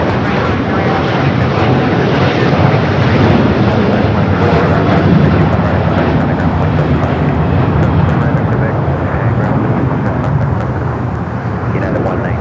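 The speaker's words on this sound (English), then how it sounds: "Heavy Dreamliner departed the inboard runway." A heavy Boeing 787 Dreamliner airliner departing an inboard runway at LAX, a loud, continuous roar of jet engines that holds steady throughout and fades slightly at the end, heard over a voice talking.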